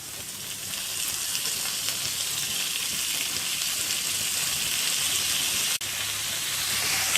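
Carrot and potato pieces sizzle steadily in a hot pan with oil, a continuous bright frying hiss with occasional faint stirring noises, close and alone without any voices.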